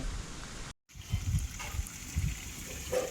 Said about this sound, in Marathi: हे बघा हे पाणी जे आहे ते वरती डोंगरातून झऱ्याचं पाणी असं पायपाद्वारे इथे भात शेतीसाठी घेतलेलं आहे